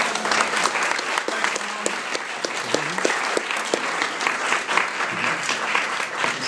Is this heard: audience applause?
yes